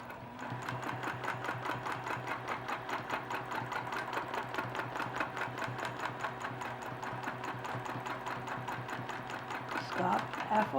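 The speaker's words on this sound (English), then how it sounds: "so we're going to stitch up." A sewing machine stitches continuously during free motion quilting, its needle thumping in a fast, even rhythm for about ten seconds and swelling slightly at the end.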